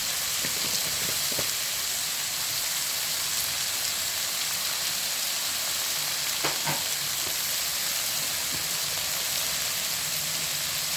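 Chopped vegetables fry in a pan with salt and turmeric, giving a steady, even sizzle with a few light clinks and scrapes from stirring. No voices.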